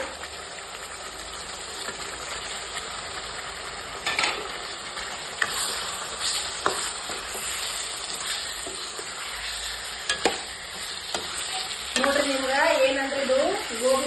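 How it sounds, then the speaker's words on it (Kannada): Cauliflower tipped into a pan of simmering water for a gobi fry and stirred, steady sizzle and bubbling broken by scrapes and clatters of a spoon, with a voice near the end. "ಇಷ್ಟು ಕುದಿಯೋ ಮುಂದೆಗೆ ನಾನೇನದ ಹೂಕೋಸು ಹಾಕೊಂಡ್ಬಿಡ್ತೀನಿ ನೋಡ್ರಿ."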